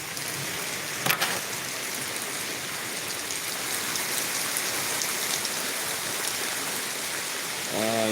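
Steady rain hisses throughout, a dense broadband wash, with a brief louder burst near the start and a faint tonal sound at the end.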